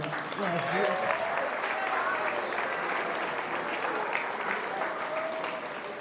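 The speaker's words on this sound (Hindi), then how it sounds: "एक बार और ताली हो यार" Sustained crowd applause for a stand-up comedian's stage introduction at a Sydney comedy show, steady and dense throughout, with a voice speaking over the clapping.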